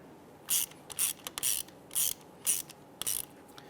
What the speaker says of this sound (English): Install your band clamp here. Let's go ahead and get that screw started.